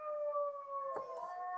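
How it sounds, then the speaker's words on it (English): Dog howling at a phone going off, a single sustained, wavering mid-pitched howl heard fairly faint and indoors, with no talk. "he's howling because the phone's going off."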